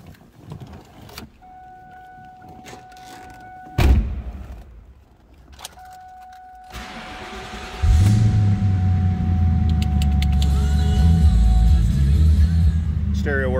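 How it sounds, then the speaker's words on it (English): A Ford Mustang Mach 460 convertible: a steady electronic chime and a few thumps, then the engine starts about halfway through and settles into a loud, even low rumble at idle close by. "We're going to fire this up, let you hear it run"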